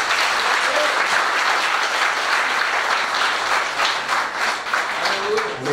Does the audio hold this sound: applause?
yes